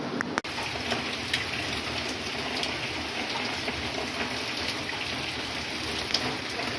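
Steady rain falling in a village, a constant dense hiss of drops on surfaces, with one brief knock near the start and no talking.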